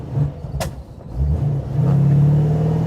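A 1934 Plymouth engine revs up as the gas pedal is pressed, a low rumble rising in pitch and growing louder, with a brief sharp click early on and no talk.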